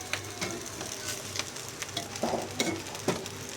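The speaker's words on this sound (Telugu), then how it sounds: "బాగా కలుపుకున్న తర్వాత ఇప్పుడు రైస్." Rice frying and being stirred in a pan for homemade fried rice, with soft crackling sizzle and irregular scraping stir strokes, close and fairly quiet, no talking.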